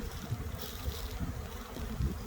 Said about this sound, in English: right now these bees are concentrating on this tree right here